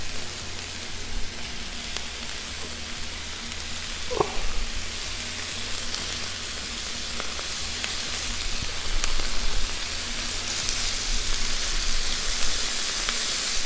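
Chicken breast seasoned with olive oil, salt and pepper sizzles and frys steadily on a Blackstone griddle, a constant hissing crackle with one brief scrape of a utensil midway and no talking.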